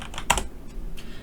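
A few quick keystrokes on a computer keyboard, sharp close clicks bunched at the start and one more after a pause, over faint room noise without talking.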